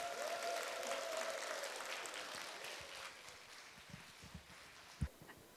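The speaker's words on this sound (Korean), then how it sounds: "다시 한번 큰 박수 주시기 바랍니다" Audience applause after a traditional Korean performance at an outdoor Jindo gut event, steady clapping that holds and slowly thins out, a few louder knocks near the end.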